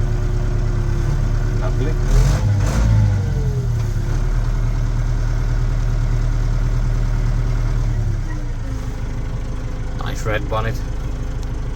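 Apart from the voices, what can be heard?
Case 844 XL Plus tractor engine running, self-leveling loader working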